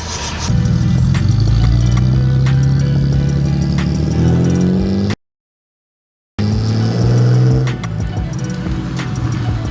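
Loud BMW E46 engine roar with rising and falling harmonic induction tones as the car accelerates, cut by a brief silence midway before the engine noise returns.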